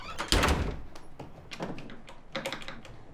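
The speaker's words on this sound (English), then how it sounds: "Close the door behind you!" A door shutting in a house, giving a single solid thunk near the start, followed by a few softer knocks and taps in a quiet room.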